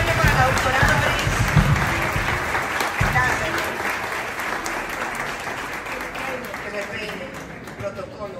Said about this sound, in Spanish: Y un aplauso fuerte para la doctora Doris.